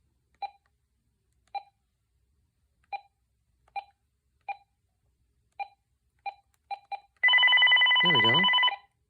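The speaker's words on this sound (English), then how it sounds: "It's got a neat keytone. It's kind of like the newer ones, except it sounds analog" Keypad on a cordless phone sends out a series of short, analog-sounding beeps at an uneven pace, about ten presses in all. A loud warbling ring follows and holds until the end.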